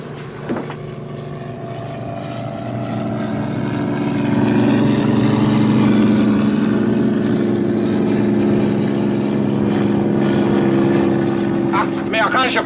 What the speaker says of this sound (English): Amerikanische Flugzeug!